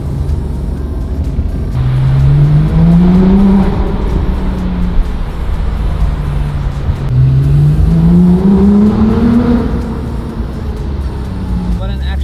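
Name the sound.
high-powered car driving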